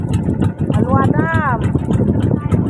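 Loud rushing wind and engine-like drone of a boat on water, with people talking and a voice calling out over it.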